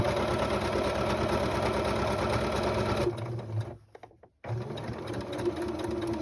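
A sewing machine runs in a steady, close whirring burst while stitching a fabric storage bowl, then slows and stops briefly before starting up again.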